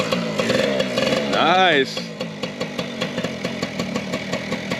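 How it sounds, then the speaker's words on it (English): A dirt bike engine kickstarted in a yard catches with a brief rising rev, then settles into a loud, close, steady chugging idle with regular pulses, while people talk over it. "All right, want to try to kickstart it?"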